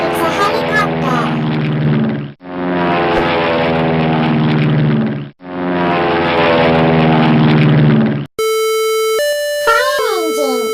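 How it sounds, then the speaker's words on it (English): Helicopter rotor chopping in three loud, rhythmic bursts separated by short breaks, followed by a brief electronic chime-like tone. "Helicopter. It's a helicopter."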